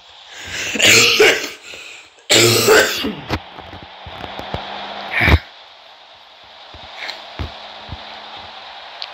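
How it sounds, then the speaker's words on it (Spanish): A man suffers a harsh, strong coughing fit, two loud bursts of hacking with throat clearing, followed by quieter scattered clicks, shuffles and a sharp single cough, close to the microphone. "Nunca me había dado una tos tan fea, ¿saben? O sea, tan fuerte así."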